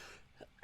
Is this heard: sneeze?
yes